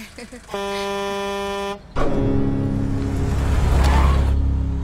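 A Benz MB100 van sounds a sustained, steady horn blast, then after a brief gap a second, longer honk rises over rumbling engine noise, with voices talking nearby.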